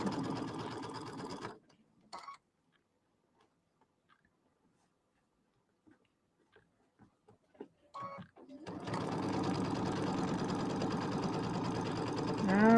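A sewing machine stitches fabric in a fast, steady mechanical chatter, running loudly up close, then stopping for a quiet stretch with a few small clicks before starting up again.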